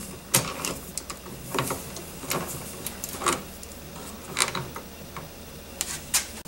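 Metallic ratcheting and clicking from a wrench working a 13mm battery cable nut under the hood of a 2010 GMC Acadia, a series of short, close mechanical clicks in irregular bursts.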